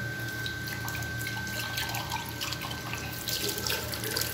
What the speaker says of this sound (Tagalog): Tapos, yung tasa, itong tasa, hugasan ko siya.